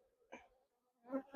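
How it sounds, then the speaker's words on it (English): Honey bees crawling over a beehive frame in the bottom box give a faint, soft buzz that comes in two brief swells, with near-silence between them. "This final frame here that has all these bees on them"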